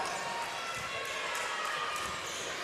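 A basketball is dribbled during a women's international game between Great Britain and Greece, repeated bounces sitting under a steady arena crowd roar and commentary.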